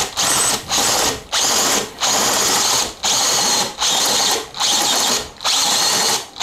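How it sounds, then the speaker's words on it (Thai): A DeWalt step drill bit bores through 6 mm thick steel, a loud, steady grinding whine broken into seven or eight regular bursts with brief pauses between them, close up and alone without talk. "เพราะว่ามันกำลังปั่นเหล็กที่หนาขนาด6มิลอยู่ตลอดเวลานะครับ"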